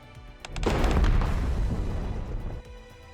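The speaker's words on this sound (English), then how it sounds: "The main cannon hits the Phantom, distorting and breaking its body." In the video game Goddess of Victory: Nikke, a main cannon fires and strikes its target, giving a loud booming blast that swells and rumbles for about two seconds before fading, with no voices over it.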